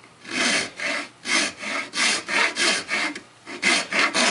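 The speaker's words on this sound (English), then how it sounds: "So I just start with my aggressive rasp" An aggressive rasp files nocks into an Osage orange selfbow in a rhythmic run of about a dozen rough back-and-forth wooden rasping strokes, close and clear with no talking.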